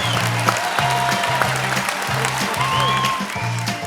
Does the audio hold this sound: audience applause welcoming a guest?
yes